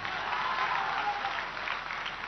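Audience clapping at a political rally speech, dense sustained applause from a large crowd filling the whole stretch at an even level.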